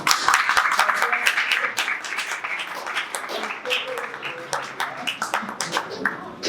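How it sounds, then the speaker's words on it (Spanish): An audience at a university event applauds a professor with loud, dense clapping, sharp individual claps standing out close by, and some voices mixed in toward the end. "Quisiera tener un aplauso"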